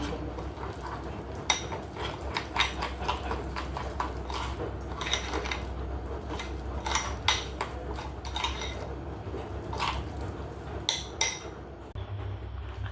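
A whisk or spoon clinks steadily against a bowl while pancake batter of water and milk is mixed, giving a busy run of close scraping taps with no talk.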